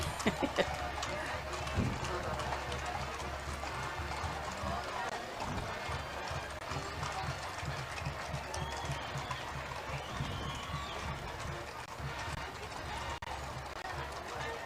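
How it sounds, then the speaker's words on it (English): Prancing horses in a large parade of more than sixty clop their hooves along the street in an irregular patter, heard at a moderate distance under a busy crowd and commentators talking. "These are some gorgeous horses. It's amazing how well trained they are."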